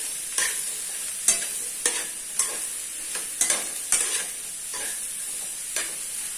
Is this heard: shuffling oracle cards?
no